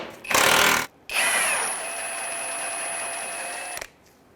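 A power tool, likely an impact wrench, backs out a 19mm lower control arm bolt on a 2003-2011 Honda Element: a short loud rattling burst, a pause, then a longer steady whirring run that stops abruptly, heard up close with no talking.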